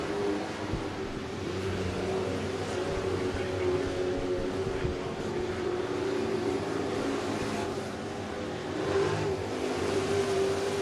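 Street stock race cars pass the flag stand at Whynot Motorsports Park during the Street Stock Nationals, a steady, dense engine drone held at an even level throughout with a faint commentator voice underneath.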